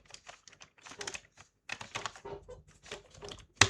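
Rapid, irregular keystrokes on a computer keyboard while entering C# code, close and fairly crisp, with short pauses between bursts and one sharper click at the end.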